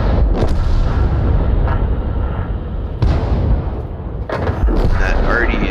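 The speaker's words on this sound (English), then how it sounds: "Well, I'll get a shot. See if I can stun him a bit." An M44 self-propelled artillery piece fires in the World of Tanks game, a loud booming blast followed by rumbling battle noise and further sharp bursts, dense and continuous throughout.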